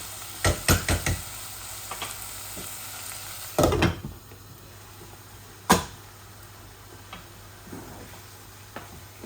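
Pointed gourd and teasel gourd pieces tumble into a hot frying pan with minced meat, giving several sharp clatters and knocks, then a low, steady sizzle between a few isolated taps. No voices.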